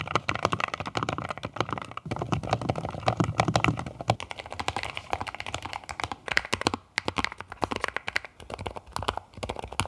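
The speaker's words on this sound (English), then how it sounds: "No rattling, so just keyboard typing bliss." Steady, fast typing on a Nuphy Node 75 mechanical keyboard with red switches, a soft, muted clack, dense keystrokes running continuously with no voices.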